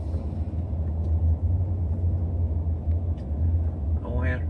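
A car drives through road traffic with a steady low engine and road rumble throughout, close and continuous, while a person talks over it.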